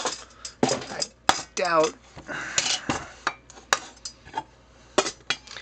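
A metal ALOCS camping stove and gear being packed into a Trangia cook pot, with repeated close metallic clanks, rattles and scrapes, while someone talks.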